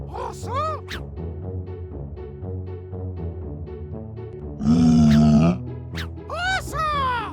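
A bear growl in a children's animal sounds program comes as one short, rough, raspy burst midway through, set against bright, bouncy background music.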